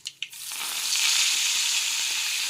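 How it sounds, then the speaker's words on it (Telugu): Crushed garlic and dried red chillies hit hot oil for a tomato dal tempering. After a couple of quick clicks, a loud, dense sizzle rises and holds steady, close and alone. "ఇందులోనే 4 వెల్లుల్లిపాయ రెమ్మల్ని మెత్తగా దంచుకొని ఆయిల్లో వేసి ఫ్రై చేయండి."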